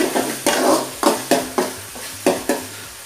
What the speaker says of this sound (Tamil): இப்போது தக்காளி பழம் நல்லா வதங்கட்டும்